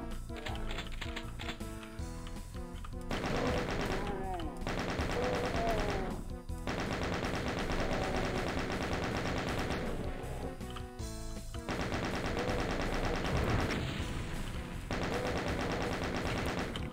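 Rapid chain gun fire from DOOM: The Plutonia Experiment on Ultra Violence, in dense repeated bursts over loud game music, with short pauses between volleys.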